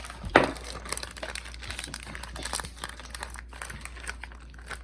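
A plastic zipper bag holding milk and condensed milk is pressed and squished by hand, producing steady close crinkling and crackling plastic rustles with no talking.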